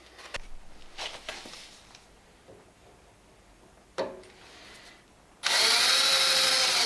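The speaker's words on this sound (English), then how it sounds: "drill a hole right here" An electric drill boring a hole during rearset installation on a Yamaha XV 750 motorcycle, starting after scattered clicks and handling noises and then running as a loud steady whine near the end.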